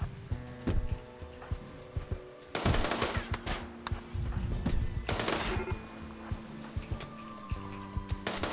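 Turret gunfire in the colony-building game RimWorld, rapid repeated sharp shots in bursts with brief louder volleys, steady and close, almost no talk.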